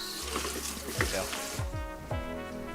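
Water rinsing through a wok after cooking chicken pad thai, a near, continuous hiss and splash of running water with clanks and scrapes in the pan, and a voice talking over it.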